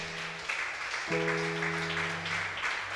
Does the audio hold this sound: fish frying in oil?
no